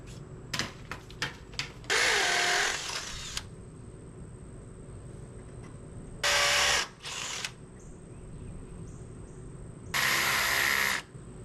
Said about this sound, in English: I took the stupid drill with me.